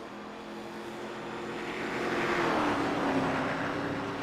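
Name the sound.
race car coasting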